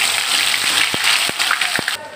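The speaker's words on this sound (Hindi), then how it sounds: "पहले लहसुन अदरक 2 चम्मच डाल के मैं भून लूँगी अच्छी तरह से" Garlic and ginger frying in hot oil in a pan, a steady loud crackling sizzle with a few soft utensil taps, close up.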